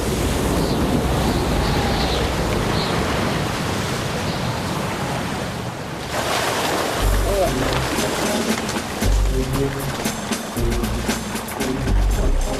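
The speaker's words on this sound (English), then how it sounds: "It's hard to imagine anything standing up to a wall of water like this." Ocean waves crash against a pier in a steady loud roar of surf and wind, later giving way to someone talking over the dwindling water noise.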